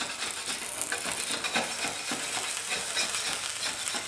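Potatoes frying in a pan for ground beef and potatoes, a steady close crackling sizzle with faint scraping stirs running throughout at even loudness, no talking.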